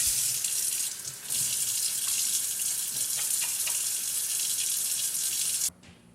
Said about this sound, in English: We begin by washing our hands thoroughly.